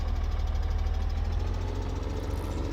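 A tractor engine in Farming Simulator 17 hums steadily and close, a constant low, throbbing drone with no speech.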